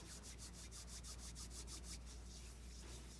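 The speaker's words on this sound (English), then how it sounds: "Applies soap. Washes all surfaces of the hands." Soapy hands rubbed together under a running faucet at a sink, giving a steady, rhythmic swishing friction that repeats evenly for a couple of seconds and then blurs into continuous hiss, quiet and close, with no talking.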